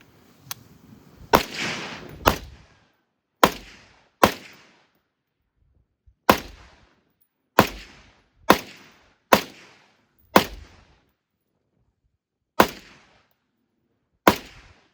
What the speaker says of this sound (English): I'll put some more rounds through.